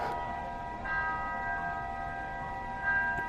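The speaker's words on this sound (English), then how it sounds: "That bell is obnoxious." A school bell rings in a classroom setting, a steady, sustained electric tone with clear ringing overtones that holds for several seconds, loud and continuous with slight swells.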